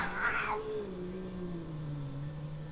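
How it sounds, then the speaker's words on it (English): Cats fighting nearby, with a sharp yowl at the start followed by a long, low drawn-out growling caterwaul that wavers in pitch and fills the rest of the moment. "Cats are fighting behind me."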